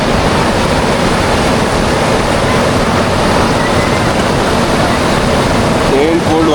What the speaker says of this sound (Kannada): ಹರಿತಾ ಇರುತ್ತೆ, ಫುಲ್ ನೀರು ಹರಿತಿದೆ ಇಲ್ಲಿ